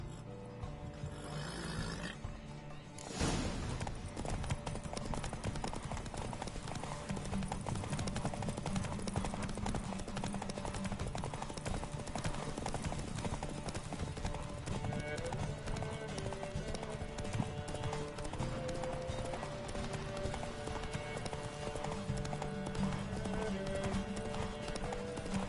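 Roach, Geralt's horse in The Witcher 3, gallops on a rhythmic, steady beat of hooves racing toward Kaer Morhen, continuous for the whole stretch over a constant game soundscape.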